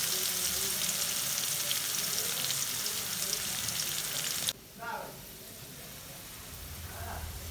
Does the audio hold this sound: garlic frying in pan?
yes